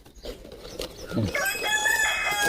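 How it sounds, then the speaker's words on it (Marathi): A rooster crows loudly and nearby, one drawn-out cock-a-doodle-doo rising over faint background clucking and farmyard noise. "ते कोंबडे केवढ आले तिकडे पलीकडे"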